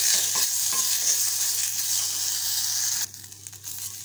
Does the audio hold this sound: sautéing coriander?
yes